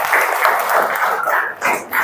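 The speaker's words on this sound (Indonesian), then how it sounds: "Panggilan? Tepuk tangan." A classroom of young children claps hands together in a dense, fast patter, loud and close, lasting about two seconds with a brief dip near the end.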